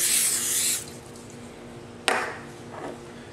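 A short hiss of cooking spray into a hot sauté pan straight from a 400-degree oven, followed by a sharp metallic clank of the pan and a faint rattle.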